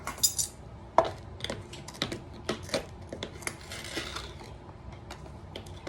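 A tablespoon of sugar added to homemade pasta sauce, with a string of sharp metallic clinks and taps of a spoon against a container and pot, irregular and close.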